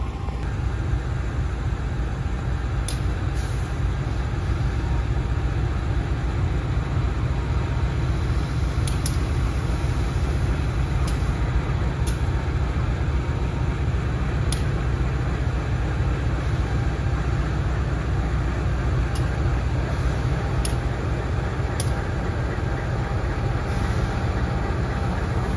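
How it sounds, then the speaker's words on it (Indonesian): Mutiara Selatan passenger train entering Maos station on its Surabaya–Bandung run, a steady low rumble of wheels and rolling stock holding loud and continuous throughout with faint squeal-like ticks above. "Ini Mutiara Selatan masuk stasiun Maos"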